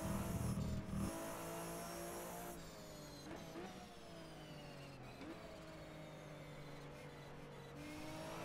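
Race car in rFactor 2 during a 24 Hours of Nürburgring stint on a drying track, engine note rising and falling steadily as revs drop under engine braking, with a brief rumble at the start and no talk.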